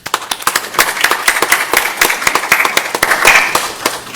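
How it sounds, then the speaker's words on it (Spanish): Applause from an audience at an international academic colloquium, a dense steady patter of many hands clapping close by, continuing for several seconds without talk. "Lo recibimos con un fuerte aplauso."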